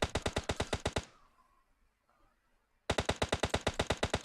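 Mark 14 DMR with an extended magazine fires in rapid, evenly spaced bursts in a competitive shooter scrim, loud and close, a long string of shots, a pause of near silence, then another quick volley.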